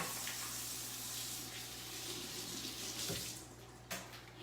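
A kitchen tap runs steadily while hands are washed after handling raw shrimp, making a close continuous splashing stream that tapers off near the end with a small knock.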